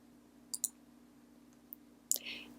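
Faint, sharp clicks of a computer mouse on a software icon come as a quick double click, then a lone click a moment later, over a quiet low hum.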